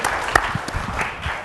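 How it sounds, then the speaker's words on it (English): An audience gives a modest round of clapping after a web application presentation, with a few sharper individual claps standing out over a softer, uneven wash. "Let's give a round of applause for John's excellent web application there."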